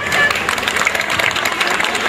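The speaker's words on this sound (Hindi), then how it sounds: "अरे ताली बजाओ सब" Audience applause at a live stage play about corruption, performed in Hindi at an alumni meet, a dense steady patter of many hands clapping with crowd noise throughout.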